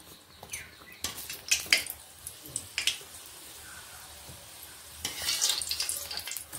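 Green pea kachoris fry in hot oil with a soft, continuous sizzle, broken by sharp clinks and scrapes of a utensil against the pan.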